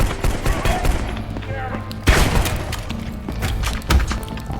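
Video game gunfire cracks in quick, uneven shots with thuds and impacts, loud and close, tangled with other game noise and someone talking over it.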